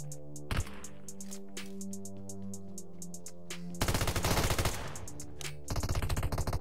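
Rapid automatic gunfire from the mobile shooter Metro Royale, with bursts of loud crackling shots, a short pause and then heavier sustained volleys near the end, all set against a steady game music bed.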